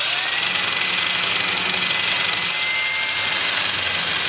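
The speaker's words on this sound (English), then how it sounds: "and sanding the top surface." A power sander runs continuously against the top surface and bark edge of a turned winged wooden bowl, a steady loud whirring hiss with no pauses.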